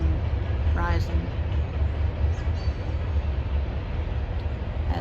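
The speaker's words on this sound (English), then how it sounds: "as we wait for the train to go on." A train rolls past steadily and close by at sunrise, its low continuous rumble filling the whole stretch while a voice speaks briefly near the start.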